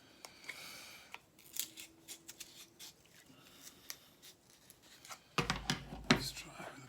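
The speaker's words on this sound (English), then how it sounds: "this is aramid, so it's very difficult to cut with a pair of scissors" Sharpened scissors struggle through tough aramid fabric, producing a series of faint, scattered snips and crunchy rustles close by, with a louder burst of cutting toward the end.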